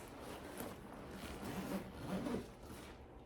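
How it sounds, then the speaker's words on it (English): A zipper being undone around a Chanel backpack, a quiet scratchy rasping run in short uneven bursts, close and soft with no talk. "You unzip this."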